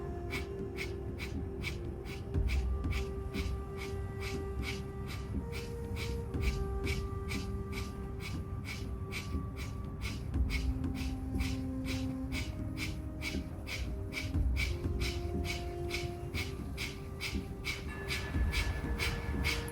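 Rapid, rhythmic breath-of-fire yoga breathing, with sharp nasal exhalations pulsing at an even fast pace for the whole stretch, close and clear with a soft background tone and no talk.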